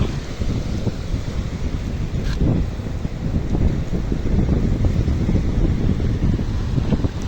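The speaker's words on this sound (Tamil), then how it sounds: "காத்து கொஞ்சம் குறைஞ்சிட்டுது" Steady wind roaring across the microphone at Sakkottai Cape on Sri Lanka's northern tip near Jaffna, a continuous low rumble with faint surf beneath, no voices.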